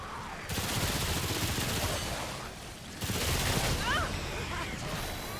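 Bursts of rapid machine gun fire in a video game, two sustained dense volleys separated by a brief lull, loud and close, with a few sharp chirping effects over the second burst.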